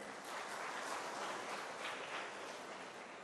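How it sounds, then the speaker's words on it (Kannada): Audience applause for schoolteachers at a school cultural festival, a steady wash of many hands clapping at moderate distance, fairly soft and even throughout with no voices over it. "ನಮ್ಮ ಮೇಡಮ್ಗಳಿಗೆಲ್ಲ ಒಂದು ಚಪ್ಪಾಳೆ ತಟ್ಟೋಣ."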